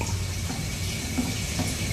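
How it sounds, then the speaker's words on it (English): Water runs steadily from a basement pipe, a constant close rushing hiss with no voices. "Water's running."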